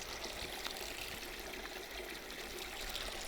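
Forest stream flowing steadily with a continuous close trickling, babbling wash, even and unbroken throughout, no voices.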